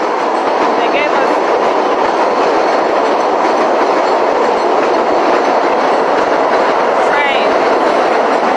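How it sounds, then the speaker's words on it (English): A train rolls past close by outdoors in cold weather, a steady loud broadband rumble with clickety-clack wheel noise lasting throughout and faint squeals now and then. "train."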